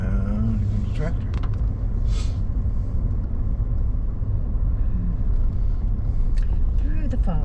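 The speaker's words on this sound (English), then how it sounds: "Here comes the tractor." A tractor drives along a farm road through dense fog, its low engine rumble loud and steady throughout with a few faint higher clatters on top.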